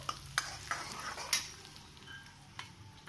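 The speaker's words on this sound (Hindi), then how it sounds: "मैंने ये प्याज डाल दिया है जीरे के साथ, और इसको अच्छे से हम भून लेंगे दोनों चीज़ों को" Chopped onion and cumin seeds frying in a pan for whole masoor dal, a faint sizzle with a few light spoon scrapes and stirring clinks against the pan.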